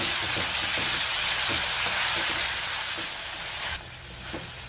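Ground masala paste of onion and tomato sizzles and fries steadily in hot oil for a fish curry, a continuous loud hiss with faint stirring scrapes, easing slightly toward the end.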